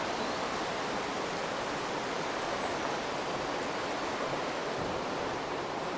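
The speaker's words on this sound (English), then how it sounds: "the sound of water, I think, is just one of the most therapeutic and calming sounds" A flowing stream gives a steady, dense rush of water, close and unbroken throughout with no voices.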